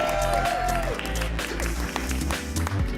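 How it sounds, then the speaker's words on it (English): Audience applause for a model at a San Diego evening show, dense clapping under music with a brief whistle-like tone, steady and fairly loud throughout. "Give him a round of applause."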